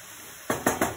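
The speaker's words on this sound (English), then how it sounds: "You can see now I am gently mixing it." Cauliflower fry being gently stirred in a pan, with three distinct scraping, clinking strokes of a utensil against the cookware after a quiet start, close and fairly soft.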